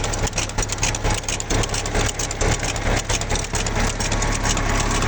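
A heavy tractor engine rumbles steadily at close range in a wet field during sowing, a low, throbbing idle with constant vibration and no voices.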